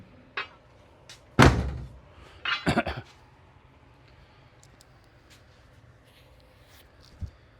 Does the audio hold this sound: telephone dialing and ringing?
no